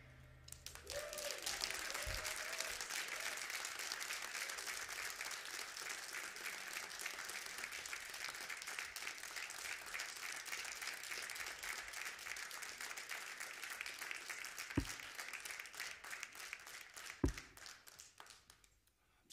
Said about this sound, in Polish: Pięknie dziękujemy za te wszystkie brawa.